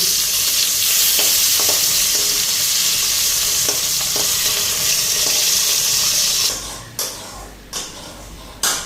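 Fish, potato, onion and chilli frying and being stirred in a pan, a loud continuous sizzle with intermittent scraping, then quieter bursts of sizzling toward the end.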